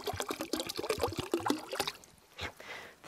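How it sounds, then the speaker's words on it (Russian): Water from a watering can splashes and gurgles onto freshly planted strawberry plants, a busy burbling pour that thins out and trails off into a few final drips. "Все вылило до последней капли."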